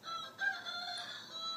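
A rooster crows once, a drawn-out, fairly close call with a rising then sustained tone, heard alone without speech.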